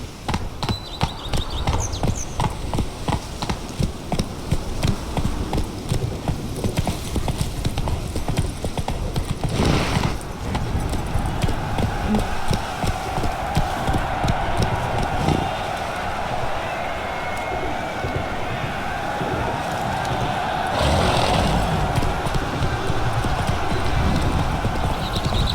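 Hooves of the horse Roach clip-clop steadily at a gallop in The Witcher 3, a continuous close rhythm throughout with a brief whinny, over ambient game background.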